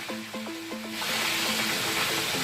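Escovitch fish sauce sizzling and bubbling in a pan, a steady frying hiss that swells after a second of brief clinking and stirring tones, close and fairly quiet with no talk.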